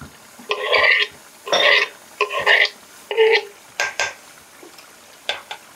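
Spoon scraping and stirring small fish curry in a metal pan as coriander is added, four short clattering bursts followed by lighter taps, close and without talk.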